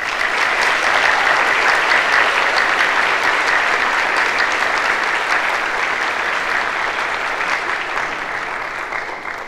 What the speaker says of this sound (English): Students, please give your faculty and staff a round of applause.